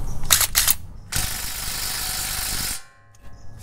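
A DeWalt 3/8-inch cordless impact gun works on 17 mm brake caliper bolts in a garage. Two short rattling bursts come first, then a longer, loud, steady hammering run that cuts off, leaving quiet mechanical clicks.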